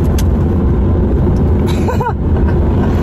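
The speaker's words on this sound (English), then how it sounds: "we're just backing up out of the parking lot" A car backs slowly out of a parking lot, its engine a steady, loud rumble with a brief whine or squeal near the middle of the maneuver.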